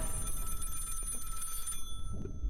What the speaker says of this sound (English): One of those rotary phones I remember seeing at my grandma's house rings loudly from the bedside table.